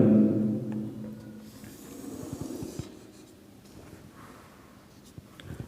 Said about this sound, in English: first of all we have to draw a number line